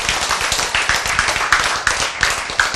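An audience claps in rhythm during a church sermon, with sharp, evenly spaced hand claps repeating steadily and fairly close by.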